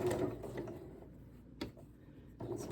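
A sewing machine runs the understitching on a garment sewn from Simplicity pattern 9334. The stitching is faint and quiet, coming in short, intermittent mechanical bursts with brief pauses between them.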